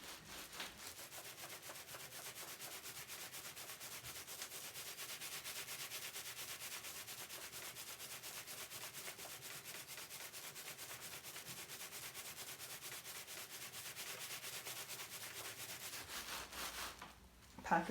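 Steady back-and-forth rubbing by hand on top of a towel over a wet felt package wrapped in bubble wrap, a soft rhythmic swishing that runs evenly for most of the stretch and then stops near the end.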